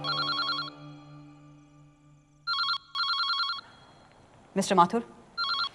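A telephone rings in repeated electronic trills, loud and close, with pauses between bursts and a voice speaking briefly between rings.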